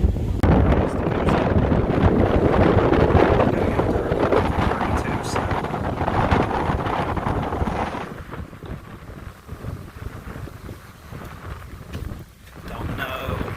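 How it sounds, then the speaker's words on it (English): Heavy wind at Presque Isle buffeting the microphone with loud, rumbling gusts that ease somewhat partway through. "it is very windy, like I was saying, so hopefully you guys can hear me"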